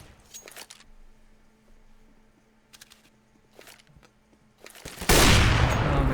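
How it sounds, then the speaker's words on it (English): Bursts of automatic gunfire in a Counter-Strike match, several short volleys spaced apart at moderate distance, ending in a loud, dense burst of fire and impact noise near the close. "Oh, machine gun at that op."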